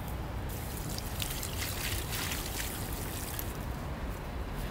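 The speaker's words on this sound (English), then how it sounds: "I empty the old water on the ground." Old drinking water from an animal pen is tipped out onto the ground, a steady close splashing pour that lasts several seconds with no talk.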